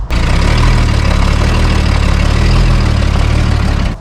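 An old Toyota Land Cruiser with a broken frame, engaged in four-wheel drive, strains under load: a loud, steady low engine drone held for about four seconds with no talk.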